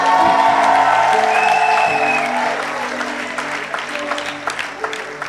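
A church congregation applauds and cheers loudly, with whoops and a sustained roar of clapping that slowly thins into scattered claps, while music plays underneath.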